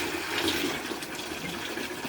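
Water gushing out of an opened Pelican 14 GPM UV whole-house water treatment housing, a continuous splashing rush at steady volume with no talking.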